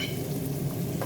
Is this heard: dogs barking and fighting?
no